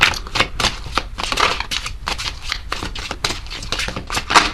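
A deck of tarot cards is shuffled by hand, giving a rapid, continuous run of crisp flicking and riffling snaps, close and fairly loud.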